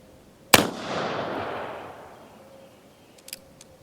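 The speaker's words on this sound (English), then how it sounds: "we're out here at about 8 yards, and we're just going to burn up some rounds" A single loud shot from a Colt 1860 Army revolver firing Johnson & Dow bullets outdoors at a range target about 8 yards away. It gives a sharp crack with a long rolling echo, followed by faint clicks.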